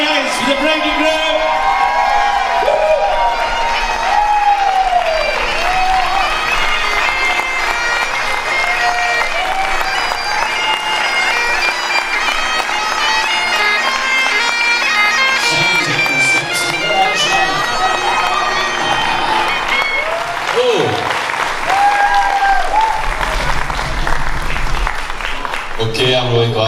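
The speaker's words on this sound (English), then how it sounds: "Massive round of applause for your newlyweds" Applause for newlyweds at a wedding reception at Loch Lomond, a sustained wash of clapping and crowd noise with cheers and whoops rising at moments, loud and continuous throughout.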